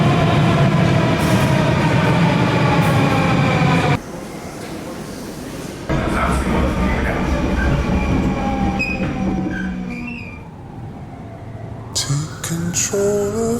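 A metro train carriage runs through the Kazan underground, a loud steady rumble with tonal whine and rail noise, a sudden drop in level partway through, then wheel squeal and clatter rising again near the end.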